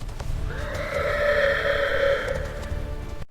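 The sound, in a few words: horse neighing loudly while rearing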